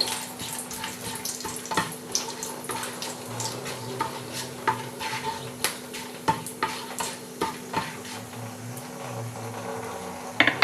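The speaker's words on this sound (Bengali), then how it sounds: "দুটো তেজপাতা দিয়ে দিলাম এটাকে একটু ভালো করে ভেজে নিতে হবে" Two bay leaves frying in hot oil for a home-style Bengali chicken kosha, giving a steady soft sizzle with frequent light taps and scrapes of a spoon stirring in the pan, close and alone.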